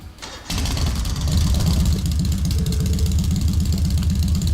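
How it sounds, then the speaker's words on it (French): A motorbike engine in the Trails of Cold Steel video game cranks briefly, then fires up into a steady, loud, throbbing idle with a regular low pulse, heard close and alone. "Très bien, je vais démarrer le moteur."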